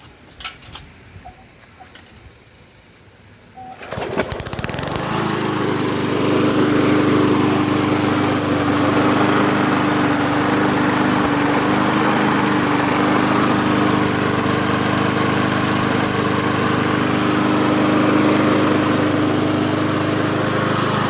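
Briggs and Stratton small engine running steadily after a carburetor diaphragm replacement, starting abruptly after a few seconds of quiet handling noise and then holding a loud, even drone with a steady tone.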